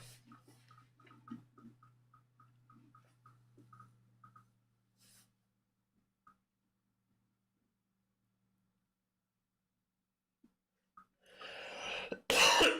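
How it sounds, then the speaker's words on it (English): A series of rapid coughs, with throat clearing, fills the first few seconds. Near-silence follows, then a loud burst of noise at the end. "Cannot stop coughing"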